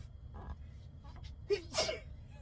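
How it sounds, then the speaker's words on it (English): A single person sneezes once, a short sharp burst after a quick breath in, close up in a quiet indoor room during a sewing session, with faint rustling before it. "I'm gonna sneeze again"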